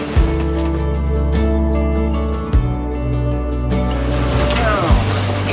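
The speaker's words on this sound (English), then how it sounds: "The swell has just picked up from out of nowhere, flinging plates around." Atlantic swell slaps and thumps against a sailing boat's hull on a passage from Fuerteventura to Gran Canaria, loud rushing water and wind under a steady drone, with sharp impacts and gear clattering as the boat rolls.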